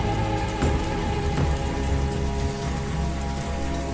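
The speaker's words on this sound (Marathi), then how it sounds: "झाडाखाली जरा कमी पाऊस लागत होता" Heavy rain pouring at night during a monsoon downpour, a dense, loud and steady hiss of drops hitting surfaces close by, continuous throughout with no voices.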